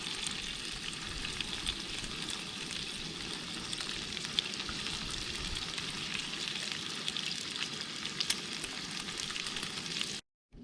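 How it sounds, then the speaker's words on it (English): Bacon sizzling in a frying pan in a camper van kitchen, a continuous dense crackle and hiss with scattered louder pops, steady and close, cutting off abruptly near the end. "Bacon, frying pan, it's on. Let's put it on and start cooking."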